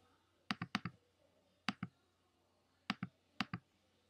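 Sharp, close clicks of numbers typed on a keyboard in short bursts of two or three presses, separated by pauses, over a quiet background hum.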